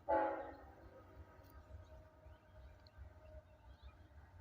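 A distant train horn in Abbeville sounds once, briefly, over a steady low rumble that continues afterward.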